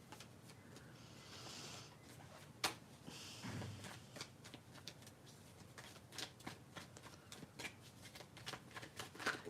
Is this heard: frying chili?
no